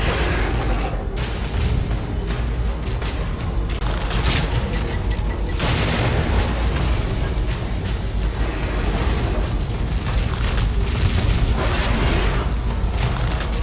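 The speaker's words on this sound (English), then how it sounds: "Time grenade!" Time grenade blast in The Evil Within, a run of loud booming bursts and rumbling crashes over dense, continuous game noise.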